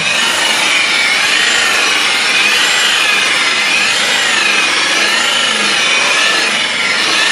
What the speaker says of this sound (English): Now he's buffing it down.